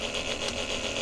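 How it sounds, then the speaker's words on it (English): A small electric water pump motor in a DIY off-grid van filter setup runs continuously, a steady mid-pitched whirring drone with no pauses. "You can definitely hear the engine of the motor of the pump."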